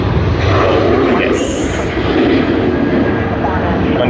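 A Virgin Australia airliner takes off at Sydney Airport, a loud, continuous engine roar filling the whole stretch, with a brief voice heard over it.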